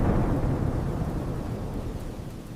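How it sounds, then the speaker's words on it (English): A heavy thunderstorm with a deep rumble of thunder over steady pouring rain, loud and continuous, gradually easing slightly toward the end. "The storm is very big right now."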